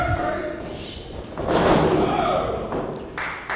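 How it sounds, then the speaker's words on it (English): Heavy thud of a big wrestler's flying shoulder tackle landing in a wrestling ring, a dull impact amid crowd noise and a commentator talking. "Big flying shoulder tackle from the big dog."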